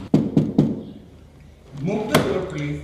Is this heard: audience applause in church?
no